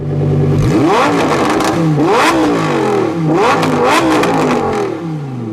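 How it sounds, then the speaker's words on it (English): Lamborghini Huracan Evo Spyder exhaust in Corsa mode, loud and close, with an engine climbing through several sharp revving sweeps and short breaks between them, no talk. "Take a listen to how this car sounds in Corsa."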